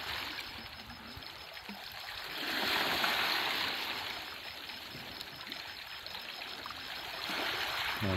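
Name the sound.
sea waves lapping on the shore at night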